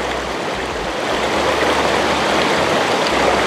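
River water rushes past a riverside rotisserie chicken setup in a steady, dense, loud flow that holds constant throughout, with no voices over it.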